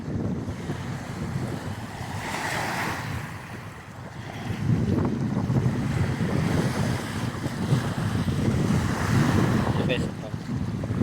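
Strong wind buffets the microphone over rough sea waves breaking and surging from a boat, with a loud continuous roar that swells midway and stays heavy.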